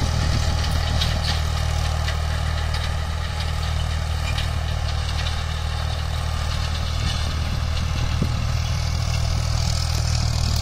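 Powertrac 439 Euro tractor, a 42-horsepower model, running in a field with a cultivator: a steady, loud low diesel drone with constant rumble throughout, no talk.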